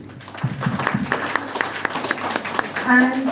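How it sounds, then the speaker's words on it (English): Scattered applause from a group discussion audience, with a few distinct claps rising and falling over a murmur of voices, fairly close, and a brief vocal sound near the end. "a round of applause for them"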